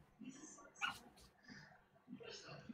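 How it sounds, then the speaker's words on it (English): A dog whimpers and yips softly to be let back inside, in short faint bursts with quiet gaps between them. "my dog's wanting in"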